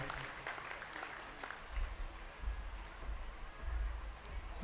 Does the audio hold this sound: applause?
yes